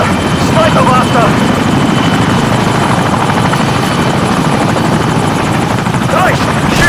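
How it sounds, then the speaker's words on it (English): Helicopter in a LEGO Modern Warfare video game, a loud steady rotor and engine drone filling the whole stretch, with faint game voices over it. "Shoot the helicopter!"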